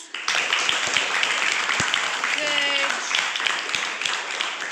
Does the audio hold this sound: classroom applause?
yes